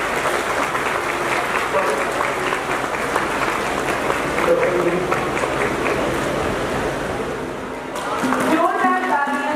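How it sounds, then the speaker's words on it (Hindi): A crowd keeps up a thick, roaring round of applause for honored guests at a women's gathering, dipping briefly near the end before a voice cuts in over the fading clapping. "जोरदार तालियां बरती रहनी चाहिए।"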